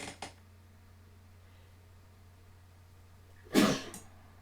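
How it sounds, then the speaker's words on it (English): A single sharp sneeze bursts out near the end after a long quiet stretch, with a faint soft sound at the very start. "I'm gonna sneeze."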